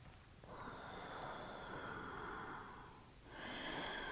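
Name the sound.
yoga teacher's deep breathing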